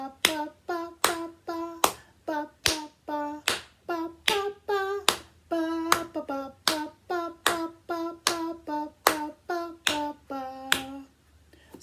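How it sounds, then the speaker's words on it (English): Hand claps keep a steady beat in a children's grade 1 and 2 music class, roughly two sharp claps per second, each followed by a sung syllable, with a bright singing voice riding over the claps throughout. "So the beat was my hand clap"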